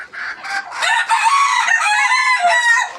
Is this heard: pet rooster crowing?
yes